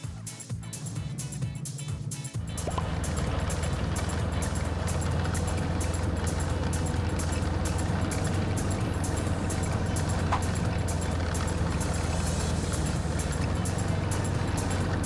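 A snowmobile engine idles roughly, then revs up and holds a loud, steady roar for the rest of the time, a dense mechanical drone close by.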